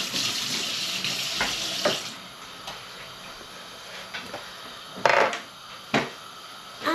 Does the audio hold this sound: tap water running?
yes